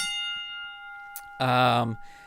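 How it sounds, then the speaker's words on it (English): A single bright ding of a wrestling match bell, ringing out clearly with a long sustained tone at the start of a tabletop wrestling game, followed by a short burst of nearby speech. "let's ring the bell"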